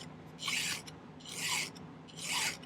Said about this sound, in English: let's start by filing the end flat